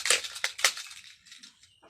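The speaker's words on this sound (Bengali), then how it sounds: "আমরা এখন যে কাঁঠালের ভিতর অংশটা কেটে নিচ্ছি।" Knife cutting into the fibrous inner part of a jackfruit, heard as a few sharp, close crunching slices in quick succession that fade to quieter scraping, with no talk.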